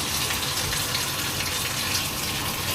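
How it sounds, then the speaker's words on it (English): Tap water running steadily while rinsing dye out of a dyed Carhartt jacket, a constant close hiss and splash with no pauses throughout. "I'm going to go ahead and get the jacket out and try to rinse any excess dye that's still in the"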